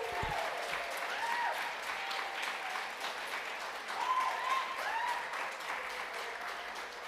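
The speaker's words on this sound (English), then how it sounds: "Please hold your applause." A crowd claps in the New York City Council chamber after a vote to override the mayor's veto. The applause is dense and sustained but fairly distant and soft, with a few whoops rising above it.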